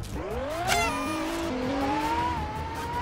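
A BMW M5 in a Roblox driving game races with a sustained engine whine that rises and shifts in pitch, loud and continuous with a brief squeal.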